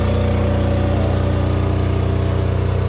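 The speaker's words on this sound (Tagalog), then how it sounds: "Demolition na hammer kasi medyo matigas kasi yung ano dito, yung lupa, kaya gumamit tayo na ito." Loud, continuous rapid pounding of a demolition hammer breaking hard ground at a construction site in Alaminos, Pangasinan, a dense machine rattle held close and unbroken.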